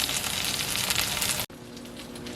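Eggplants fry in oil on a stove, a dense, even, close sizzle that cuts off abruptly and then continues more quietly.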